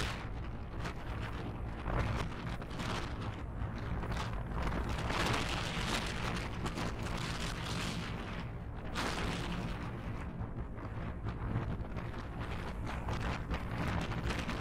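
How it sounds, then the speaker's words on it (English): Strong wind buffets a microphone at Cleveland Hopkins airport, a steady loud roaring rumble with gusty surges that fills the whole stretch and masks any other sound. "We are definitely battling the wind."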